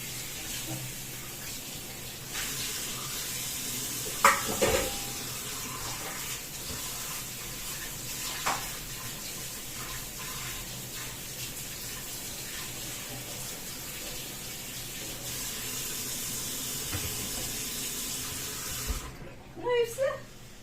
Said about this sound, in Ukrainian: Тиск води сьогодні